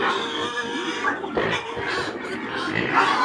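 Pigs grunt and snort in a series of rough, short bursts, up close, over a busy background of farmyard noise.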